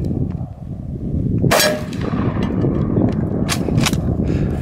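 A shotgun loaded with buckshot fires at a homemade armor plate outdoors, a sharp loud blast near the middle followed by metallic clangs and a couple of later impact cracks.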